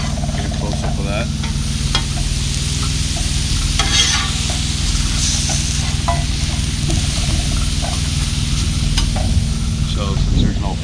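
Food sizzling steadily on a Blackstone 17 inch griddle, a continuous close frying crackle with occasional scraping of a spatula against the flat top, no talking.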